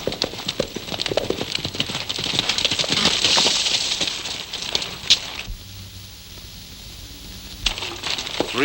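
Horses' hooves clip-clop in a steady walking rhythm, moderately close, with a louder stretch before the sound thins and briefly drops away near the end.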